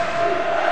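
A basketball arena crowd roars in a sustained wash of cheering and shouting, urging on the defense during an Oregon versus Cal men's game.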